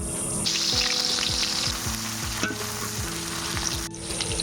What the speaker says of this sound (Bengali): বন্ধুরা এখন পেঁয়াজ কুচিটা ঢেলে দেবো